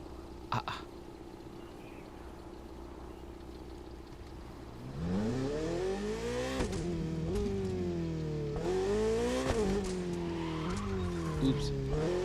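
A car in the video game GTA revs and squeals with rising and falling engine pitch and tire skids after a quieter opening, with someone talking faintly.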